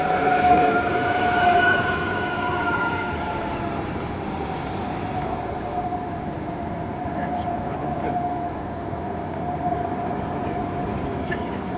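A high-speed YHT train travelling to Ankara, with a steady rumbling roll and a faint whine heard from inside the carriage, continuous and even throughout.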